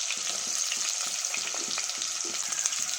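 Onion, green chilli and curry leaves fry in hot oil with fenugreek seeds for a madavai fish curry, giving a steady close sizzle with light scraping stirs repeating throughout.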